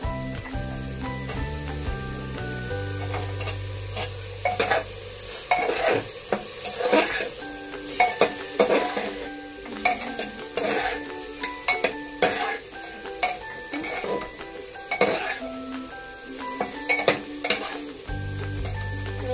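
Chicken meat fries in a pan with a dense, steady sizzle while a utensil stirs it, scraping and clinking against the metal in irregular bursts close by.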